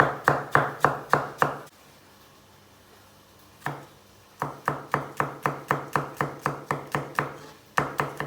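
A knife finely chops peeled tomatoes on a cutting board in quick regular bursts, pausing briefly before resuming the steady rhythmic chopping, close and clear.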